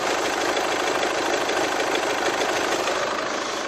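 A diesel engine idles in a used imported car, giving a steady, dense mechanical clatter with an even drone that holds constant throughout, close and alone.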